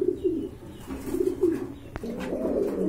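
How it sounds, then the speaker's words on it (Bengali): A pair of red checker homer racing pigeons coo nearby in low, repeated rolling phrases, broken by a single sharp click midway. "টপ কোয়ালিটি কবুতর, এই যে দেখেন একদম 1800 টাকা।"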